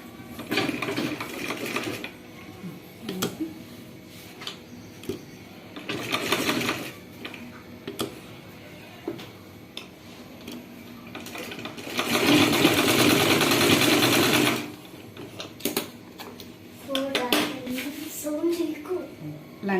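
A sewing machine stitches pieces of a silk petticoat (pattu langa) made from a saree. Its fast, steady whirring runs in several bursts, with one long loud run near the end and someone talking in between.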